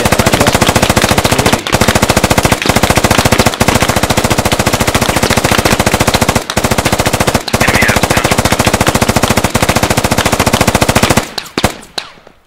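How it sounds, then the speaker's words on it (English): Sustained suppressive machine gun fire in the Insurgency video game, loud continuous automatic bursts with brief pauses, ending in a few scattered final shots. "Just giving suppression fire."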